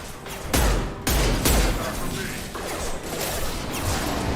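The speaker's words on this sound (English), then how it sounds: "Firing concussive shot!" A concussive shot power fired in the Mass Effect Legendary Edition video game, giving loud heavy thumping blasts with a whoosh near the start amid dense game noise and background chatter.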